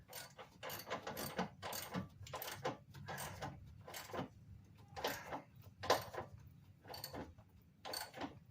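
Ratchet with a 1/2 inch socket being worked on the water outlet housing of a 2009 Ford Focus SE, giving close, repeated short clicking bursts in an uneven rhythm.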